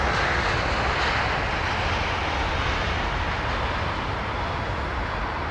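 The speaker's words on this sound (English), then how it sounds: "Nice smoky start for that 767." A Boeing 767 jet roars on its takeoff run at London Heathrow, a loud, steady, broadband engine rumble that fills the whole stretch without letup, heard alone with no talking.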